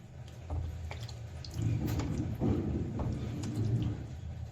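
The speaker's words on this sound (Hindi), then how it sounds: "हम इसके अंदर आधा गिलास पानी डाल रहे हैं" Water poured from a glass into a simmering cauliflower and peas curry in a pan, a steady close pouring and bubbling wash with faint drips, no talk.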